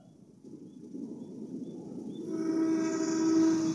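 Sri Tanjung passenger train on an Indonesian railway, hauled by a regular locomotive, rumbling closer and then blasting a long, shrill, tinny horn that swells loud at close range.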